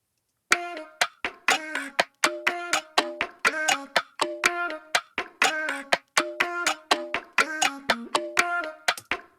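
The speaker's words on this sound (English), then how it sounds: "let's put this percussion loop in" A percussion loop in an Ableton-produced pop beat repeats a tight pattern of short, crisp tonal hits with brief gaps between them, dry and close, with no talking over it.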